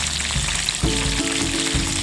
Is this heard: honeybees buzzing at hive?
no